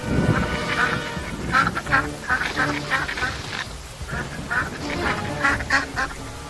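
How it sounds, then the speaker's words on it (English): Female Chinese mergansers clash over their ducklings, giving repeated harsh quacking and honking calls in irregular bursts. The calls are close and loud, with short pauses between flurries. "Females often fight over their ducklings."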